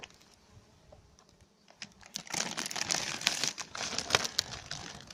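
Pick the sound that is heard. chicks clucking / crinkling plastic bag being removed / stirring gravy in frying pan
crinkling plastic bag being removed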